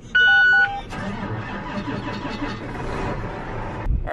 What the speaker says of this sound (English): Start the tractor, let it warm up.